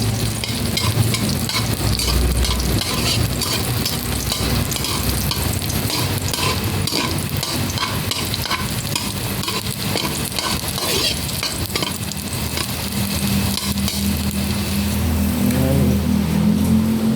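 Garlic frying in a hot pan before kangkong goes in, a loud, continuous close sizzle with steady stirring and scraping throughout, and a low engine-like hum underneath toward the end.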